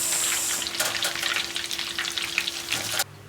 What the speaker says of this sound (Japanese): 揚げます